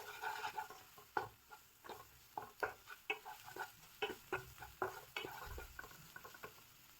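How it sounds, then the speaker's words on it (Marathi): Spices (chili powder, coriander powder, mutton masala, salt and turmeric) fry in a pan for palak mutton, with a soft sizzle under repeated scraping, stirring taps. Faint and close, with no talk. "मसाल्याला पहिले आपण चांगले फ्राय करून घेऊया।"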